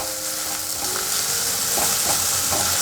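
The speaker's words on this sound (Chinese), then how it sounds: "继续翻炒。" Carrots, king oyster mushrooms and black fungus being stir-fried in a pan, a loud steady sizzle with spatula scrapes and tossing throughout, no voices.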